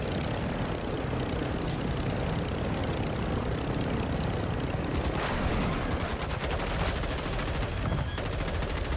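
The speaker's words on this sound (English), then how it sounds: "Who's shooting me?" Sustained gunfire from Call of Duty DMZ, dense and continuous throughout with rapid bursts layered over a steady game din, loud and close.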